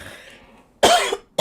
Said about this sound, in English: I didn't want to cough, but it came and I really tried to hold it back.